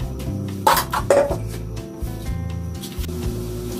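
A pot of annatto broth heating on the stove is covered with its lid, giving two sharp metallic clinks close together over a low steady hum.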